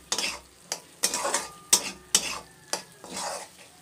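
Lote fish jhuro being stirred with garam masala in a pan, repeated scraping strokes of a spatula against the metal at an irregular rhythm over a faint sizzle, close and clear.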